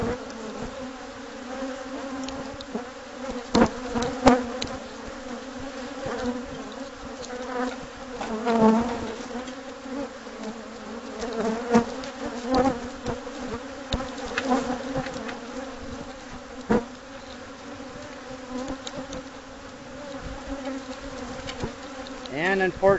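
Bees swarming in a hive during a removal job in San Diego, a dense continuous buzzing close by, with louder individual bees passing near at intervals.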